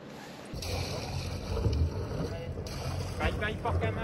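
Gusty wind roars across the microphone aboard a moving Beneteau Oceanis 50 sailing boat, with rushing water beneath and a voice speaking briefly.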